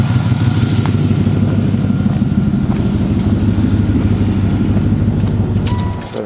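A 1994 Buick Roadmaster sedan with a loud exhaust idles nearby, a steady deep throbbing rumble that holds evenly throughout and eases slightly at the very end.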